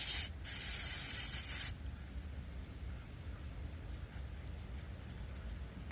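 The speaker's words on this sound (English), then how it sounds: "this is carbon choke cleaner" Carbon and choke cleaner sprayed onto a spark plug from a push mower that sat unused for over three years, one loud close hiss lasting under two seconds, then a quiet background.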